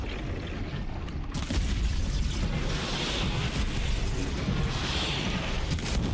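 Explosion in the video game Horizon Zero Dawn, a loud deep boom rolling into a sustained roar of debris and rumble that stays dense and heavy for several seconds.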